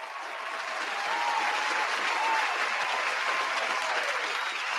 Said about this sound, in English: give Brad a round of applause